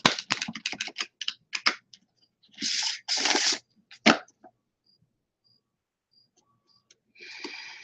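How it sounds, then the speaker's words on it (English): A tarot card deck is shuffled in quick riffling bursts, close and crisp, with pauses between shuffles and faint ticks in the gaps. "Shuffling the deck"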